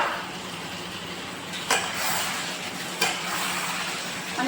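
Sliced potatoes frying in a small pan, a steady broadband sizzle with two sharp scraping stirs standing out near and loud, no talking.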